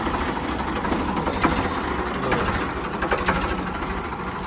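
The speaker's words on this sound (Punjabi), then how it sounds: "ਬਾਪੂ ਲੈ ਚੱਲਿਆ ਟਰੈਕਟਰ" A Ford 3600 tractor engine runs close by in a steady, rough diesel chug with a slight knocking rhythm, holding an even level throughout without speech.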